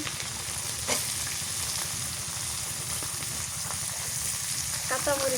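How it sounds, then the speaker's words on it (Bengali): Chopped pieces fry in hot oil in a pan while taro stolons are being cooked: a steady, fairly soft sizzle throughout, with occasional light clicks and scrapes of stirring. "কুচিটা ভাজা হয়েছে এবার দিয়ে দিচ্ছি কুচি"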